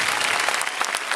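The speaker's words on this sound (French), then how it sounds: "Oui, vous pouvez applaudir Carthage." An audience claps at a public gathering at Carthage, a dense, steady wash of applause throughout with no gaps and no voices on top.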